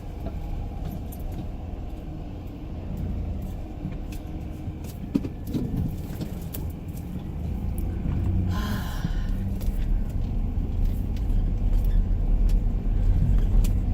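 A car reversing out of a parking spot and pulling away, its engine a steady low rumble throughout that grows slightly louder in the second half, with faint jangling and a brief hiss midway.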